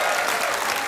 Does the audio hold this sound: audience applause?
yes